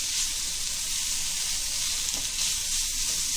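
Boiled chicken sizzling in a hot pan for a cheesy macaroni chicken roll, a loud, even, continuous hiss of frying that holds steady throughout with no talking.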